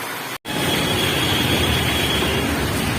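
Steady rain falling outdoors during a market trip: a continuous, even hiss of downpour, close and fairly loud, broken only by a very brief dropout near the start, with no voices.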